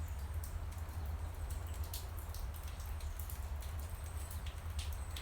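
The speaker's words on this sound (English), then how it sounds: "that's like mostly coming off of the railing, right? So like big clumps of rain, but it's mostly just like sprinkling" Light rain dripping off a railing outdoors, a faint steady sprinkle with scattered soft drops over a low rumble of background noise.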